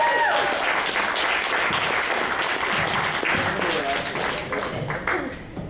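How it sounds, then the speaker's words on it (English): An audience gives warm, continuous applause to a group of performers taking a bow at a stage show. The clapping is dense and steady, with faint voices and cheers mixed in, and it tapers slightly at the end. "I'm going to forget to applaud for everyone, but we'll especially applaud for Leslie."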